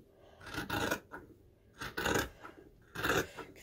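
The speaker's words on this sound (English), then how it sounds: "I'm just going to go ahead and cut off this serging" Scissors snip through the serged edge of a hoodie sleeve in three separate close, rasping cuts spaced about a second apart.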